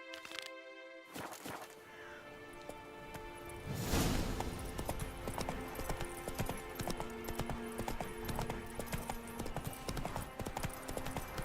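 Steady clip-clop of Roach the horse's hooves in The Witcher 3, walking at an even rhythm with a brief clatter and muffled background ambience early on.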